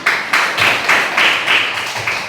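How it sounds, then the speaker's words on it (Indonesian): A classroom group claps in about eight rhythmic bursts of applause, each sharp and fairly loud, close by, with no talk over it. "Oke, tepuk tangan"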